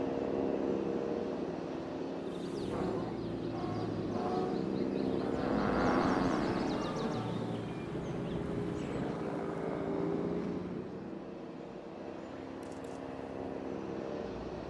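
A helicopter in the video game Jurassic World Evolution 3 drones steadily with a broad rotor and engine rumble, swelling slightly midway, then easing under a low ambient bed with no talk.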